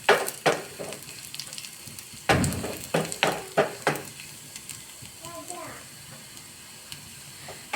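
Coriander chutney mixture sautés in a pan, with sharp spatula knocks and scrapes against the metal over a soft sizzle, and the clatter thins out toward the end, where faint voices are heard.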